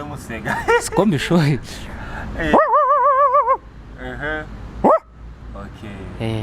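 A person's voice imitates a dog, giving a few yappy barks, a long wavering howl and a short yelp, loud and close.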